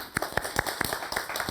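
A church congregation at a Sunday service claps in quick, irregular bursts, the sharp hand claps fairly soft and slightly distant in the room.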